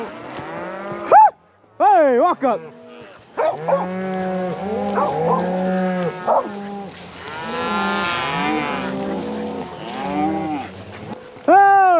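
Several cattle on a cattle drive moo loudly and repeatedly, long drawn-out calls overlapping one another nearby, with a man briefly calling out between them.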